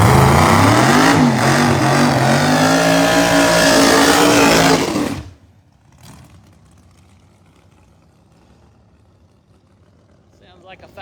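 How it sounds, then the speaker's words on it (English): A 632 Pro Outlaw ProMod drag racing car with HRE racing engines revs loud and close at a drag strip for about five seconds, then shuts off abruptly, leaving quiet ambience and faint distant sounds. "I'm going to say we got another 632 Pro Outlaw car coming."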